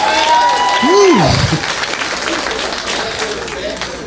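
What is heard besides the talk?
comedy club audience applause and cheering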